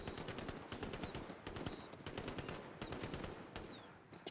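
A machine gun fires in a video game, rapid bursts of automatic gunshots repeating steadily throughout at moderate loudness, with no voices.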